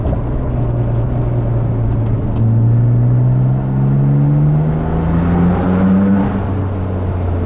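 A 1992 Nissan Skyline GT-R R32 pulls hard in second gear, its engine drone rising steadily in pitch from inside the car, loud and continuous with a slight lift before easing near the end.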